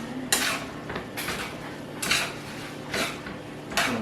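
A utensil scrapes and clanks against a pot as cooked meat is stirred, with four or five distinct knocks spaced about a second apart, fairly quiet and close.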